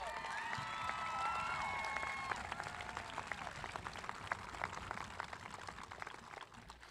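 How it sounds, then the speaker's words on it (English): Crowd applause at an outdoor high school graduation ceremony for the class of 2021, dense clapping that thins out to scattered claps and fades, with faint whistles and cheers near the start. "Let's give them one more round of applause"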